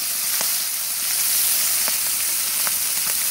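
Bacon frying in a skillet at a campsite in Colorado Bend State Park, a steady loud hiss and crackle with scattered pops throughout, no voices.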